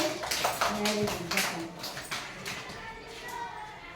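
Hand clapping during a children's counting activity, a run of quick close claps mixed with children's voices speaking over them.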